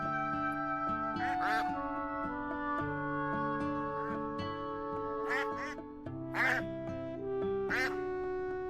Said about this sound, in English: And it looks like we have ducks.